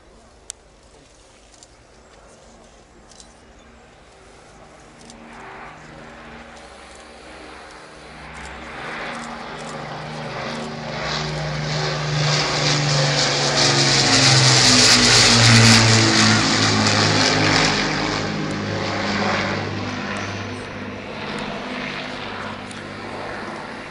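A WWII British bomber from the Battle of Britain Memorial Flight makes a flypast at a railway festival. Its propeller engines rise from a distant drone to a loud roar overhead and then slowly fade.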